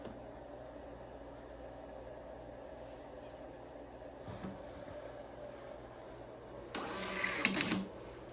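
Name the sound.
POS receipt printer printing a receipt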